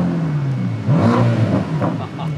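A V8 sports car engine revs and roars at close range, its low rumble rising and falling in a couple of swells, with excited voices talking over it.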